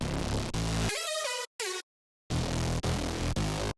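Single-layer synth loop from a hyperpop track, loud and bright with driving rhythmic hits, a short stuttering section of stepped tones, then a sudden silent gap before the full loop returns.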